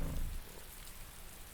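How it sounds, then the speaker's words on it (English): Rain falls in the online game Anarchy Online as a steady, dense hiss of drops, fairly faint and continuous with no voices. "It's raining in Anarchy Online."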